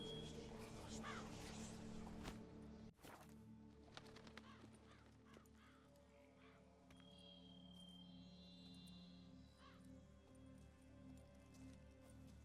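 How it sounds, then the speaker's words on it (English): A raven in The Witcher 3: Blood and Wine, giving a few faint caws amid quiet ambient game sound, low in the mix with clip-clopping hooves and a faint voice nearby. "What was that? A raven?"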